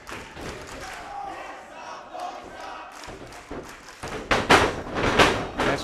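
A pro wrestling crowd cheers for a wrestler called Sanders, with murmuring and shouts at first, then loud surging yells and cheers in the final seconds.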